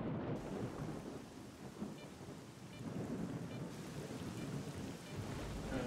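A thunderstorm in S.T.A.L.K.E.R.: Call of Pripyat, with steady heavy rain hissing over rolling low thunder rumbles that swell and recede throughout, loud and continuous with no talking.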